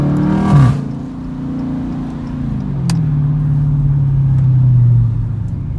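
A Chevrolet Corvette and a Dodge Hellcat pass on the road. A loud engine drone sweeps past early, then a lower, steadier engine note rises and holds as the second car follows close behind.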